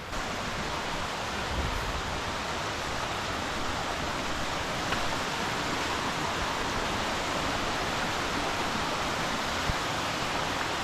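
Rushing water near a waterfall at Kanniyar Kayam, heard as a dense, unbroken roar that stays loud and even throughout, with no voices over it.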